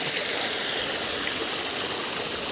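A lively waterfall flows nearby, a dense, steady rushing hiss of falling water with no voices over it.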